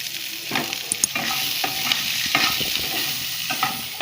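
Onions sautéing with a pinch of salt in a pan, a continuous frying sizzle broken by repeated scraping and clinking of a spoon stirring at close range, with no talking.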